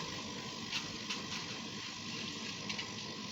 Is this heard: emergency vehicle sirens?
no